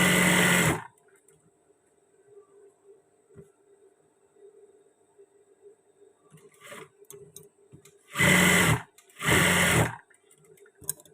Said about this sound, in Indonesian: Juga kita jahit sakunya, kita sambung.